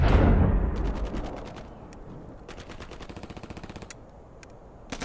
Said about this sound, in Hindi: ये तो फायरिंग बहुत नजदीक से हो रही है।